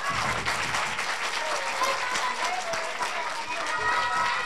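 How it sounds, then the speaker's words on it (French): A children's audience claps loudly and steadily throughout, dense applause mixed with excited cheers and shouting voices. "J'ai dit applaudissez moins fort, ils ont applaudi très fort."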